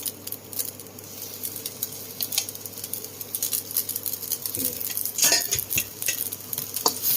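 Pad see ew rice noodles being stir-fried in a pan, a steady sizzle with continuous scraping and clattering of the spatula against the pan, growing busier toward the end.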